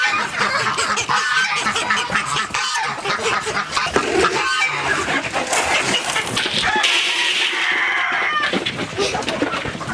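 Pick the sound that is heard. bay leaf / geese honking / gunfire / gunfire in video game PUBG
geese honking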